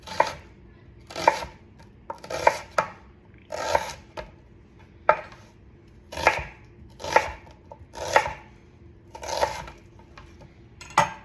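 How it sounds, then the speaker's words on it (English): A knife slicing a vegetable into thick half-moon pieces on a cutting board, about a dozen sharp knocks falling in a loose, steady rhythm, close and clear with no talking. "I'm going to cut half moons out of this just like I did the fennel, but a little thicker."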